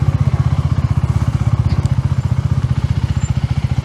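A KTM Duke 390 motorcycle riding on a road, its single-cylinder engine thumping in a steady, fast, even pulse at close range, loud and continuous with no talk over it.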